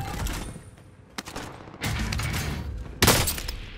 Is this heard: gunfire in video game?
yes